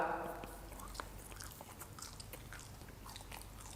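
Someone bites and chews a crunchy barbecue-flavoured dried fish snack close to the microphone, with a few crisp crunches and softer chewing, and a voice briefly audible at the start.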